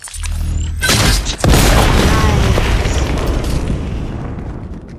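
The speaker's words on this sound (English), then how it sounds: "Ah, that's a grenade." A grenade goes off in the Polar Blizzard video game with one loud, close, deep boom, and the rumble keeps rolling and slowly fades over several seconds.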